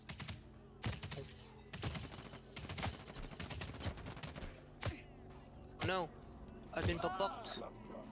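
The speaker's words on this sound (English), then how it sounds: "someone's shooting me" Gunfire in a multiplayer video game, sharp bursts and single shots scattered through the clip, with players talking over the action.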